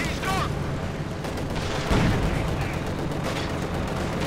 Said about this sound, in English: Another incendiary barrage.